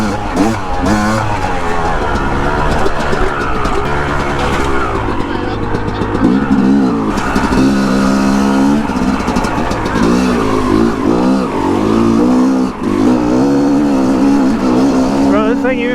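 A dirt bike on a Colorado mountain trail, its engine loud and close throughout with rising and falling revs as the rider works the clutch in second gear, and someone talking over the engine.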